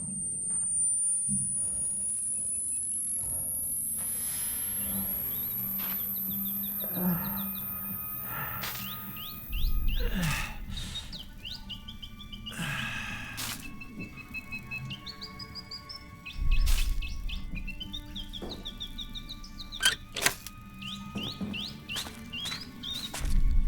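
A switched-on electronic bird toy gives out repeated short chirps and tweets in small runs through a quiet room, with scattered thumps and footsteps and a high steady whine behind it.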